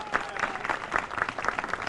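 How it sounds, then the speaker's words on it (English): Applause for Assemblymember Rudy Salas at a community memorial gathering, a steady spatter of many hands clapping with a faint voice underneath, moderately loud throughout. "you should give him a big round of applause"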